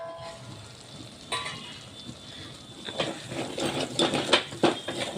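Spice masala of coriander and cumin powder, kasuri methi and garam masala frying in oil in a pan, a soft steady sizzle with louder crackling spatters building toward the end, close by and with no talking.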